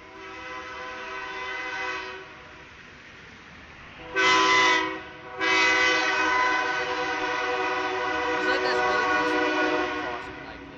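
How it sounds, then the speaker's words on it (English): A passing train sounds its horn at night in a sustained, loud tone that swells into two strong blasts midway, then carries on over the low rumble of the rail cars. "I apologize for the train noises."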